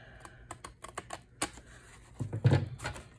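Junk journal cover material being trimmed with a series of crisp, close snips and cuts in quick irregular bursts, building to a louder cluster near the end, with no talking.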